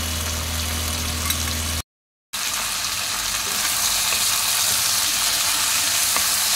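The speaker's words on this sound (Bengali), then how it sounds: "পুরো মাংসটাকে ভেজে নিয়েছি" Mutton sizzles and fries loudly in a pan for Bengali goat curry, a dense close crackle after a brief cut, with occasional stirring and no voices.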